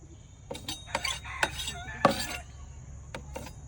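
A spoon clinks and scrapes against cards and a hard surface during a blindfolded card-lifting game played by village girls. About six or seven short, sharp metallic taps sound at uneven intervals, close and clear, with little talk.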